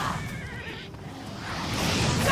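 Horse neighing in the video game Oblivion Remastered, a wavering whinny near the start that fades into wind-like game ambience and a building rumble.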